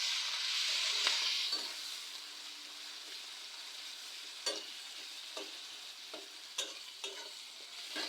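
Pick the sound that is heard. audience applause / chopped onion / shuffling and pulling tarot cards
chopped onion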